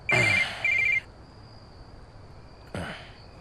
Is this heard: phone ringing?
yes